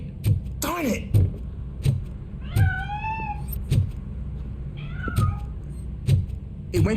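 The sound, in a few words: cat meowing in the video game RoboCop: Rogue City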